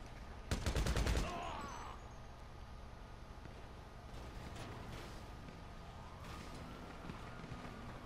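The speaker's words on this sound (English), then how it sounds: "That's me shooting." A sharp burst of rapid gunfire erupts in GTA V, a dense volley lasting about a second, followed by fainter scattered shots and low ambient game rumble.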